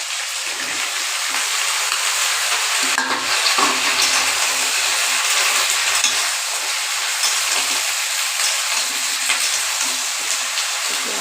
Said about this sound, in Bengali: ফুলকপিখানে অকমান ভাজা হয়ে যায় এটি আমার এখানে সবজিখানে দিয়ে দিই